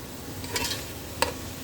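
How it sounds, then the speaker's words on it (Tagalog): A utensil stirs food sautéing in butter with bell pepper in a pan, a soft scraping sizzle with two brief clinks, close and fairly quiet, no talking. "Haluin natin ng mabuti"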